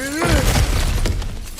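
A breakable cracked floor or barrier in God of War Ragnarök is smashed through, giving one close, loud shattering crash with debris scattering briefly afterward.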